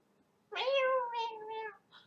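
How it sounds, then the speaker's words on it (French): A cat meows in a single long, drawn-out call with a rising then falling tone, clear and close in a quiet room, ending in a short softer chirp. "Ah, il y a super le chat qui miaule."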